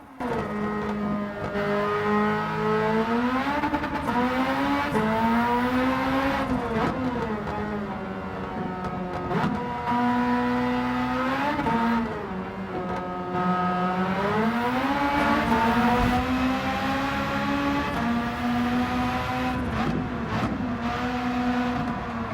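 The Mazda RX-8's 13B MSP rotary engine in Gran Turismo 7 rises and falls through repeated high revs, a smooth buzzing wail climbing toward its 10,000 RPM limit, loud and continuous with no voices.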